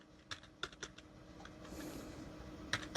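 Keys clatter on a computer keyboard linked through a 4-port switch, a few sparse clicks followed by a quieter stretch, then a couple of sharper taps near the end, close and quiet.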